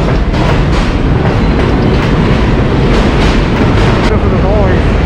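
A subway train rumbles past in Brighton Beach, Brooklyn: loud, close and continuous, with a clattering rail rhythm filling the whole stretch.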